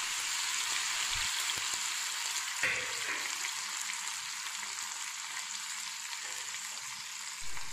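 A steady, gentle sizzle of onions and tomatoes sautéing in pans, with a few soft stirring knocks and clinks.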